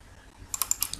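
Quick computer keyboard shortcut presses, about five crisp close clicks in rapid succession after a brief quiet moment.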